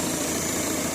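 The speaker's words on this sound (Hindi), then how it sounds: "इस गाड़ी के अंदर नॉकिंग आ रही है इंजन में और गाड़ी पिकअप ड्रॉप कर रही है।" A Ford Figo TDCi 1.4 litre diesel engine with a knocking fault runs at idle, giving a loud, close, steady rough drone with a dense, continuous rattle and no talking.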